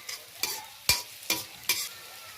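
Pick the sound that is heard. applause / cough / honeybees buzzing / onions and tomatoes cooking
onions and tomatoes cooking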